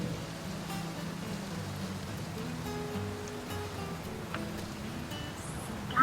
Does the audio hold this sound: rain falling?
yes